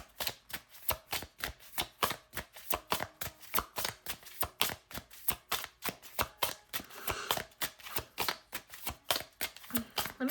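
Tarot cards are shuffled and drawn for a reading, making a long, even series of quiet, close card slaps and riffles in a brisk, regular rhythm.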